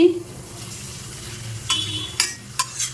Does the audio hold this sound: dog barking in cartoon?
no